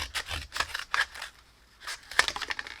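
Scissors snip through a scarf's yarn fringe in a quick series of soft, close cuts with short pauses between.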